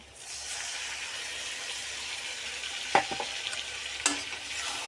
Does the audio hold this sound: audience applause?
no